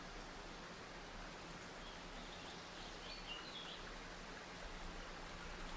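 A waterfall pouring out of a tree in the video game Eastshade: a faint, steady broadband rush of falling water with soft, scattered bird calls in the background.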